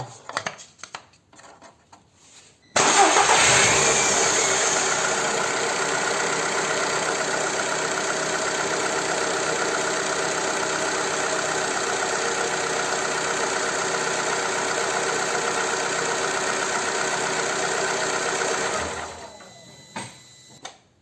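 A Seat Ibiza engine, just given an oil change, starts abruptly after a short quiet moment, then idles evenly and loudly for about fifteen seconds before shutting off.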